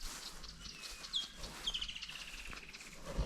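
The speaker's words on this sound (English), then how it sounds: "Woodland kingfisher calling." A woodland kingfisher calls from a tree at a basic bush campsite in Botswana's Khama Sanctuary, with a faint high trill and descending rattling notes over quiet outdoor ambience.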